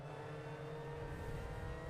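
In an online MX-5 Cup race at Calabogie, a neighbouring car's engine holds a steady, buzzing mid-range drone alongside, faint and continuous, with no voices.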